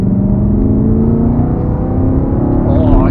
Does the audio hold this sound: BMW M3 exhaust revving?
yes